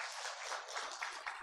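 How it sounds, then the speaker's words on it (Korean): A church congregation at a Korean Sunday service gives the choir a steady round of soft applause, the clapping even and continuous, heard from a distance. "박수 한번 보내주시면 감사하겠습니다"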